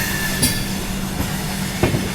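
Ganga Sutlej Express rolling on the rails after leaving Barabanki Junction, heard from on board as a loud steady rumble with rhythmic wheel clicks and a faint squeal, close and with no talk.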